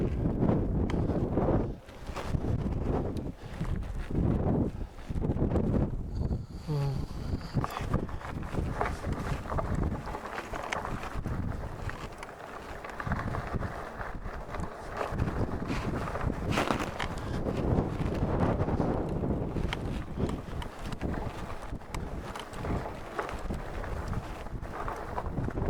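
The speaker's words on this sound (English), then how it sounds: "It's really windy, by the way." Strong wind gusting across a dusty desert road, a loud continuous roaring buffet against the microphone that surges and eases throughout, with no voices present.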